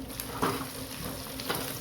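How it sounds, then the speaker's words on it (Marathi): Onion frying in oil in a pan while making a paneer biryani gives a quiet, steady sizzle with a few soft stirring scrapes and small crackles, close and low in level, with no talking. "आता त्याच पॅनमध्ये आपण तेल घालून कांदा फ्राय करून घेऊ।"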